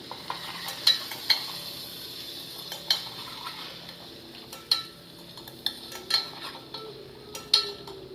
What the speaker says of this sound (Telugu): చూసారు కదా, అన్నీ కలిసేలా ఇలా కలుపుకోవాలి.